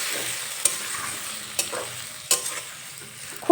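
A pan of bitter gourd cooked down in spices sizzles and is stirred after a little water goes in, with a steady fry hiss broken by a few sharp utensil scrapes and clicks.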